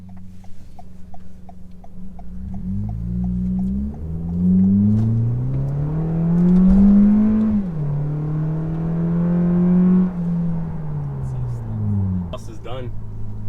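The aftermarket exhaust on a 2019 Toyota Camry XSE with the 2.5-liter four-cylinder, heard from inside the cabin with the windows up: a low droning note rising and falling through revs, with faint ticks and a soft voice underneath.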